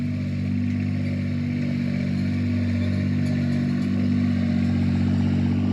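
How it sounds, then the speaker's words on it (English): Small tractor grading ground at a log home build site, a steady mid-pitched engine drone running continuously at moderate distance with faint clatter, no talk. "There's John on his small tractor doing some grading."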